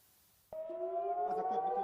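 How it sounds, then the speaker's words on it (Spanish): Civil defense siren in northern Israel near the Lebanon border at Kiryat Shemona, warning of a rocket attack, starts abruptly and holds a steady, loud wail with harmonics, slowly rising and drifting in pitch, heard alone. "Sirenas en la frontera norte de Israel advierten sobre un nuevo ataque con cohetes a la ciudad israelí de Kiryat Shemona"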